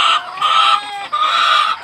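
Farm chickens kept in steel cages cluck and call in close, loud bursts, three or so raised vocal phrases separated by short pauses, with no voices.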